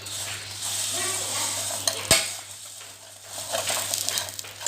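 Vermicelli roasting in desi ghee in a pan: a continuous soft sizzle under stirring and scraping, with one sharp utensil knock midway and no speech.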